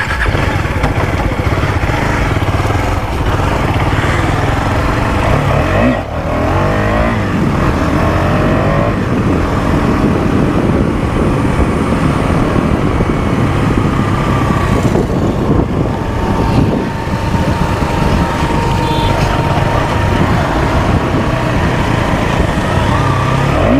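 A sport motorcycle engine drones loudly and continuously while riding on a mountain road, with wind rush and small shifts in revs throughout.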